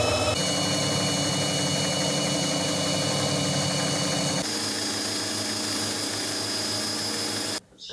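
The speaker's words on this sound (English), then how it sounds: "Basically there's an impeller in here which is driven by the drill, and of course I get suction here and I pump the water" Drill-driven impeller pump moving water, a loud continuous whirring drone with a shift in pitch partway through, then cutting off abruptly near the end.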